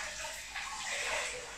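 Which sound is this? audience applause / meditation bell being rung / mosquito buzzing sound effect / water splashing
water splashing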